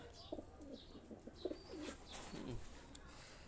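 Pigeons in a loft where school-type and Chinese breeds are kept give soft, low cooing phrases through the middle of the recording, set against steady background hiss and a constant high whine.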